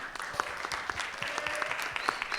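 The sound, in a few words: audience applause at end of panel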